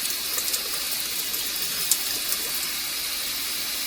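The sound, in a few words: running water, rubbing fingers on a stainless steel spoon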